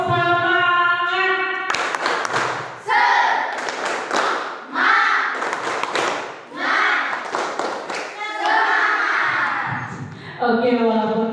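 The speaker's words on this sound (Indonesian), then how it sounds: "ayo semangat, tepuk semangat." Classroom of students doing a rhythmic tepuk semangat spirit chant, patterned bursts of claps and thumps mixed with chanting voices in a steady call-and-clap rhythm.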